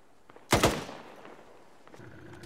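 A single loud gunshot cracks out in an ArmA 3 firefight, its echo trailing off, followed by faint distant shots and low background rumble.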